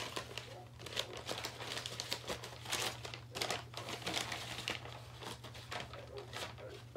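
Papers rustle and crinkle steadily as a backpack is rummaged through up close, with irregular crisp crackles over a low, constant background hum.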